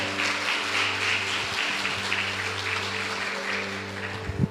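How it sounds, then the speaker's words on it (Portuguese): Church congregation applauding at an evening Pentecostal service in Brazil: dense, steady clapping sustained throughout, with a low organ-like hum and hiss underneath. "Os que acreditam, aplaudam bem forte ao Senhor Jesus"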